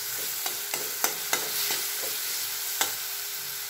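Onion and spices sauté in a pan on low heat, a steady close sizzle broken by several sharp scrapes and taps of a spoon stirring, with no voices.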